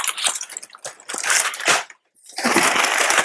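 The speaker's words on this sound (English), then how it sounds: "Tons of packing paper." Paper is crumpled and scrunched in loud crackling bursts, with a brief pause before the rustling resumes.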